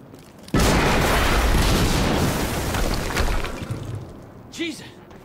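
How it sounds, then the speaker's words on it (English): A loud video game explosion bursts suddenly and rumbles close by, decaying over several seconds into debris and a brief trailing whine, with no talking. "we just heard an explosion near the harvesting perimeter"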